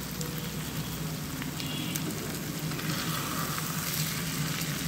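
Kachki fish chorchori, a small-fish dish, cooks over low heat in a pan while being stirred, giving a soft, steady sizzling hiss throughout with faint occasional scrapes.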